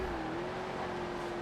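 A Volkswagen Golf GTI engine in the racing game Forza Horizon 4 holds a steady, even drone for a brief moment, fairly quiet and with no voice.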